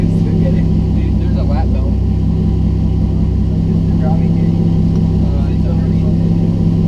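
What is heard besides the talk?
Chevy Cruze engine starting and idling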